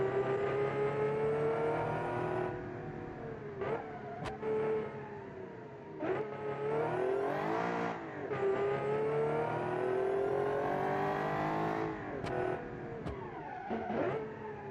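A green 1970s Alfa racing car in a driving game revs hard through repeated gear changes, its engine note climbing and dropping in a loud, close whine that continues without talk.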